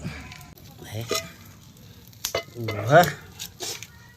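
Native chicken meat sizzling in a hot pan outdoors, a hissing fry with scrapes and clinks of utensils, under intermittent nearby talk.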